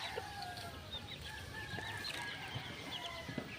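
Chickens in a coop cluck and murmur continuously at a faint level, with a rooster crowing in the background and scattered soft calls over a low ambient hiss.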